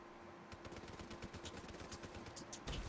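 Rapid automatic gunfire in Call of Duty Black Ops 3 multiplayer, a fast unbroken stream of shots at moderate distance, ending in a louder burst.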